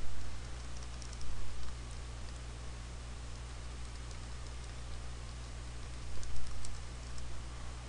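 Keys tapped on a computer keyboard while entering a description field, quiet and intermittent clicks in small bursts over a steady low hum, with no voices.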